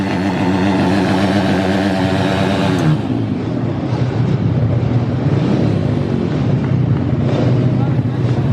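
Pit bike motorcycles in a 140 class race at a UK track, their engines droning loudly and continuously in a steady high whine, with a passing bike shifting pitch early on and crowd or commentary noise mixed in.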